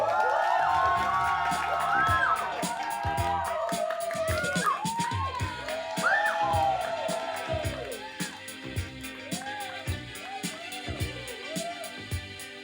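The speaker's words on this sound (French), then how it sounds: "un tonnerre d'applaudissements pour Deam Anomalia" A cabaret audience cheers, whoops and shouts in welcome for a performer, the crowd noise loud and sustained at first and then easing into scattered calls and claps.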